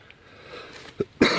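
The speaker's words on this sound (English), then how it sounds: "we've been hacking and coughing all morning." Quiet background, then two short coughs in quick succession, the second louder and sharper.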